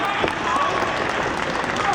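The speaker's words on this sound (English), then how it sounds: "I think this crowd is now showing its respect to both men because they know they're seeing a terrific wrestling match." A crowd at a CM Punk versus Samoa Joe wrestling match applauds steadily, a dense wash of clapping and cheering that runs throughout under a commentator's voice.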